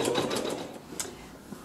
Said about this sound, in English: you're going to begin sewing the cross stitch